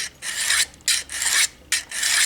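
Knife blade honed on the 300 grit side of a Harbor Freight four-sided diamond hone block, three close, even rasping strokes separated by short pauses.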